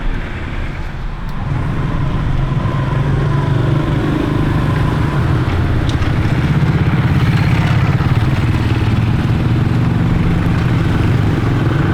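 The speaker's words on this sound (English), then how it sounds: "Lots of motorbikes, as you see." Steady roar of motorbikes and cars passing on a busy Vientiane street in Laos, a continuous close engine drone with rattling clatter throughout, no voices.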